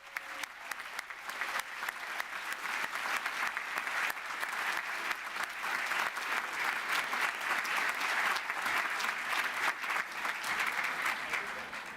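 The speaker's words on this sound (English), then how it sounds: "So please give them all a round of applause too." Sustained audience applause fills a university graduation ceremony hall, a dense steady wash of many hands clapping at even loudness for the full stretch with no talk over it.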